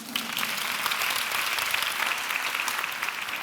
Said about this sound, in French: Quand vous aimez la question, vous pouvez applaudir.